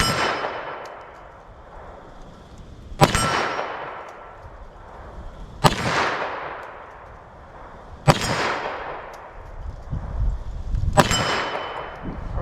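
Buffalo Bore 115 gr 9mm +P+ bullets strike a 10-inch steel gong in four sharp metallic clangs spaced a few seconds apart, each ringing out and fading over faint gunfire, with no talk.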